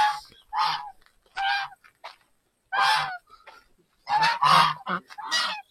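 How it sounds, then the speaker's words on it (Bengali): Geese honk repeatedly in loud, close, nasal bursts, several calls overlapping in clusters with short quiet gaps, at a riverside tourist spot near Mukut Manipur. "রাজহাঁস ডাকছে।"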